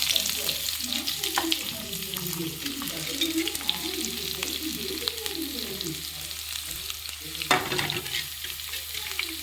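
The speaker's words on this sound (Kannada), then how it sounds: "ಇದು ಈರುಳ್ಳಿ ಹಾಕ್ಕೊಳ್ತಾ ಇದ್ದೀನಿ." Onions frying in a pan for tomato sambar make a continuous close sizzle, with frequent stirring scrapes and spoon clatter mixed in throughout.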